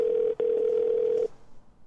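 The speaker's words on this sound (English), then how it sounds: "At the tone, please record your message." An answering machine tone before recording a message: a single steady electronic beep lasting just over a second, with a brief dropout near the start, then quiet line noise.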